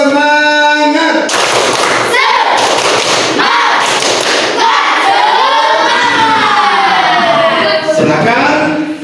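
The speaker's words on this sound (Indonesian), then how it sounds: "Lagi sekali, tepuk semangat." Students in a classroom repeat tepuk semangat, rhythmic bursts of loud group clapping interleaved with chanting voices, distorted and near.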